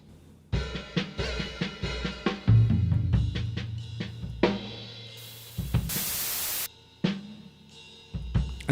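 A drum-and-bass loop runs through IK Multimedia MixBox tape cassette emulation, which adds hiss and noise to the punchy beat. A loud burst of broadband noise comes in briefly partway through.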